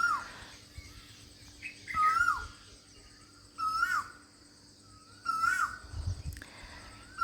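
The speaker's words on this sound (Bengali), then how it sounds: "এত সুন্দর পাখির মিষ্টি মিষ্টি আওয়াজ, মানে মন ভরে যাচ্ছে সকাল সকাল উঠে।" Birds call outdoors in the early morning: one bird repeats a sharp, rising-falling call four times at a steady pace against a faint background hum of insects.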